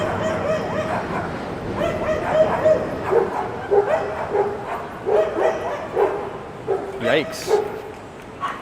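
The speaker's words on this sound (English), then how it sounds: "Look at all the dogs here." A crowd of dogs bark and yip repeatedly on a Manhattan street at night, a busy overlapping chorus of sharp calls near the listener, with a brief spoken exclamation.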